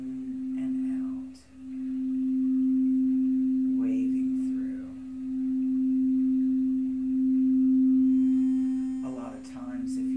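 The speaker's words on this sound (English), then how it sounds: "if you're listening to the tones of the crystal balls played today" A crystal singing bowl sustains one pure, steady ringing tone, swelling and easing slightly in loudness throughout, with a soft voice speaking briefly over it.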